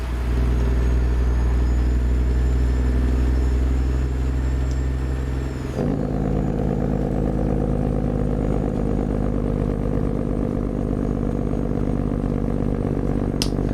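A Ruda Classic XL truck drones steadily in Euro Truck Simulator 2, a constant loud low engine hum that shifts pitch midway as the gearing changes.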